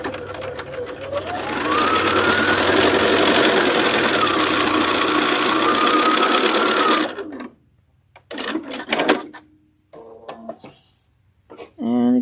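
A sewing machine stitching quilt pieces whirs loudly and steadily for about seven seconds, its pitch rising and falling with speed, then stops. Someone speaks in the quiet that follows, with light handling clicks.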